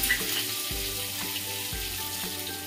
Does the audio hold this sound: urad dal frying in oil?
yes